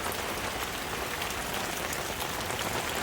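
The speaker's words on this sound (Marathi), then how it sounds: "हे बघा पूर्ण हा झालाय असं पाऊस येतोय. एवढा पाऊस." Dense, steady downpour of heavy monsoon rain during rice transplanting season, a continuous loud hiss of drops hitting surfaces with no pauses or voices.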